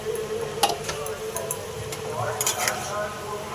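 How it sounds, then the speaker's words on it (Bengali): Boiled chickpeas being stirred into spiced oil in a pan, with soft scraping, clinking strokes and gentle sizzling, close and fairly quiet over steady background hiss. "চানাটা দিয়ে একটু নাড়াচাড়া করে নিলাম"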